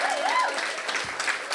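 A conference crowd keeps clapping for a performer in a short, continuous burst of applause, with a voice briefly heard through it.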